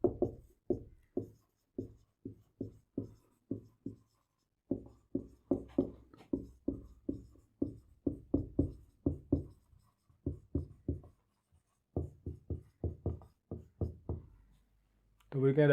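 Chalk taps and scrapes on a board during a Class 8 maths lesson on polygons, in quick rhythmic runs of short strokes separated by brief pauses, close and clear.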